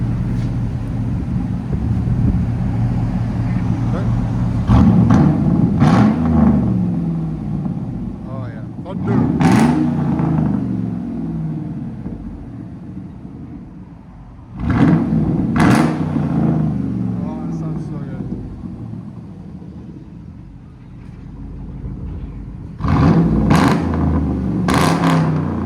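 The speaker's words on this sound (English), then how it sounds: "Here's the idle." A 2013 Chevy Silverado with a 5.3L V8 and true dual straight pipes idles with a steady low rumble. Several louder blips or surges rise above it, and wind buffets the microphone.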